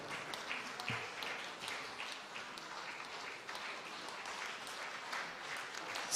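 A crowd applauds at a music festival awards presentation for a balalaika performer, steady clapping with individual hand claps audible in the mix, holding an even level throughout.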